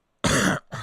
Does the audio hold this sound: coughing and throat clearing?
yes